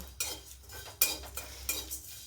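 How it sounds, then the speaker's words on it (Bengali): Whole fennel, cumin, coriander seeds and cardamom dry-roasted in an empty pan, heard as a few separate scraping, rattling stirs with light clinks of a utensil on metal, close by and with no talking. "তো এইগুলো শুকনো খোলায় একটু ভেজে নেবো"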